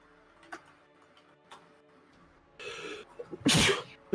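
A person sneezes during a tabletop role-playing game session: a sharp burst followed by a louder, closer second sneeze after quiet table sounds and faint ticks.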